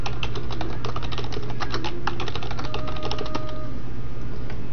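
Someone types a password on a computer keyboard: a quick run of close, crisp key clicks over a steady low hum, with no one talking.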